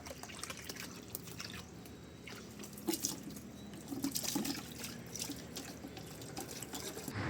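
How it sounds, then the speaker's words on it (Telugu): Tap water runs steadily into a container, a continuous splashing stream with occasional louder gurgles, close by and with no talking. "ఇలా వాటర్ సౌండ్ ఏంటుంటే భలే ఉంటుంది కదా సో ఇలా వాటర్ పట్టుకోవడం"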